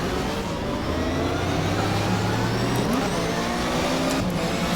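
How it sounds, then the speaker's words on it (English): A Porsche race car engine in a racing video game lugs at low revs, a steady droning hum with low harmonics that rise slightly near the end, loud and continuous with no talk. "Now see, I heard the engine lugging."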